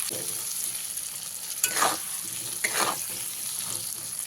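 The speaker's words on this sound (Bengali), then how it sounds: "আলুগুলোকে খুব ভালো করে লাল লাল করে ভেজে নিতে হবে" Potatoes seasoned with salt and turmeric fry over a medium flame for an aloo soyabean curry, making a quiet sizzle with two louder scraping stirs midway.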